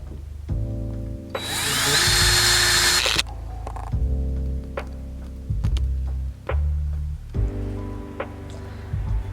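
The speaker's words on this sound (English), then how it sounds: "Now I just have to drill holes where these wires are going to pop through to the back" A power drill boring holes through acrylic sheet for LED neon sign wiring, one loud sustained whine lasting a couple of seconds, set among clattering handling noises and short mechanical whirs.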